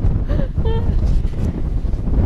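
Cold wind gusts roar steadily against the microphone at a house by the sea, with a brief faint tonal squeak early on.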